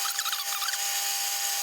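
A continuous high-pitched metallic whine and grinding, steady and loud, as a lathe drills through a metal plate with a large centre drill in the chuck.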